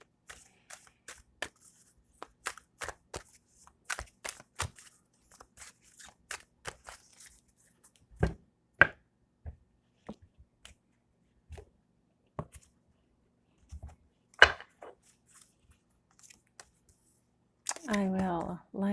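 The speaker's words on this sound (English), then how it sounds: "it is just so much fun to watch me shuffle" A deck of tarot cards being shuffled by hand, giving a long run of crisp, irregular clicking and riffling bursts close to the listener, with a voice briefly at the end.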